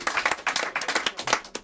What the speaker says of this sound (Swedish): Nu ger vi alla en applåd